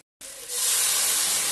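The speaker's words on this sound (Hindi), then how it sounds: "तो अब कचालू के झोल के लिए तड़का लगाया जा रहा है।" Spices hit hot oil for tempering a Himachali kachalu curry. After a short silence, a sudden loud hiss bursts out and holds as a sustained, bright sizzle.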